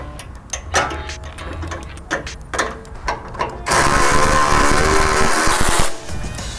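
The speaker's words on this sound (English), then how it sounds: "we're going to counter hold the sway bar link with an 8mm socket" A hand ratchet turns an 8mm socket on a sway bar link nut of a new Ford F250 during a lift kit install, with a close run of sharp, uneven clicks, then a louder sustained mechanical whir and rattle.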